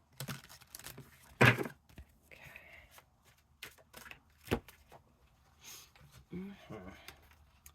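Tarot cards are shuffled in soft, close, intermittent riffles and slides, with quiet papery taps and crinkles scattered through the moment, and a gentle voice talking in between.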